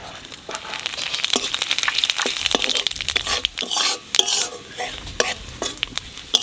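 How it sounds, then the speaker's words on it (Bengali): Cumin seeds and bay leaves frying in hot oil for a mixed vegetable dal, with a steady crackling sizzle broken by sharp pops and stirring scrapes, close and fairly loud, no talking. "তেলের উপর দিয়ে দেবো জিরে তেজপাতা"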